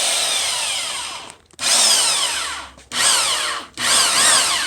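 A power drill whines loudly in three long bursts, its pitch shifting as it bites into wood, with short pauses between runs.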